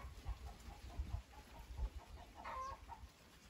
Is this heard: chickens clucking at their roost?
yes